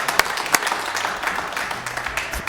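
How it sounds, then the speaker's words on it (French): Studio audience applause for a contestant on a French TV game show, a brief burst of dense clapping with a few louder distinct claps, moderately loud and tapering. "On applaudit bien pour David."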